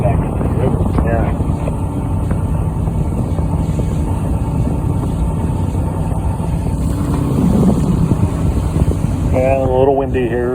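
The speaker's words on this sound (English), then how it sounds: "a little windy here." Steady wind buffets the microphone aboard a river tour boat near Alexandria Bay, a constant broadband rush over the low hum of the engine, with brief voices breaking in near the end.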